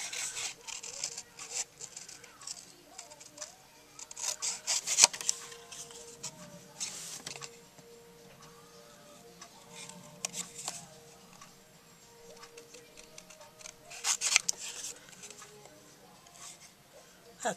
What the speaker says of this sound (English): Okay, so now I'm just going to cut that out.